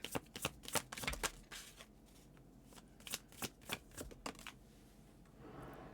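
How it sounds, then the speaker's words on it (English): Tarot cards are shuffled in quick riffling bursts, with a busy stretch at the start, a short pause, and then a second run of crisp card flicks close to the listener. "If I could shuffle, that'd be great."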